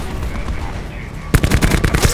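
Gunfire in a Call of Duty team deathmatch match arrives as a sudden rapid automatic burst after a stretch of dense game background noise, loud and close.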